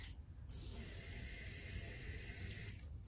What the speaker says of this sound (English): spray some WD-40 down in there and let it soak